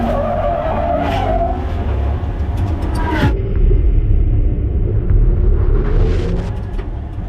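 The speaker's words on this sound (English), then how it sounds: "all of a sudden I got instant downforce and front tires hooked, and then sent me in a right spin out" A race car spins out at Watkins Glen after its front tires suddenly grip, with loud tire skidding and engine rumble that drop off sharply partway through before another rising screech.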